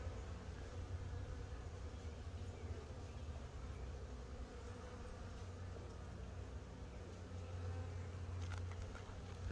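Honey bees swarm around an open hive during an inspection, a dense continuous buzzing drone that stays even and fairly faint throughout, with no voices over it.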